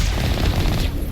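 Gunfire strikes the player in Mass Effect, a short loud burst of rapid overlapping shots crackling throughout.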